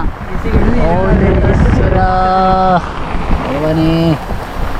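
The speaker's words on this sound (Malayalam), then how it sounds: "ഇത് നമുക്ക് പാസ്സാവാൻ പറ്റാത്ത അത്രയും വലിയ മഴയാണ്" Heavy rain roars steadily against an auto-rickshaw, a dense loud wash of noise, while a voice speaks over it in drawn-out phrases.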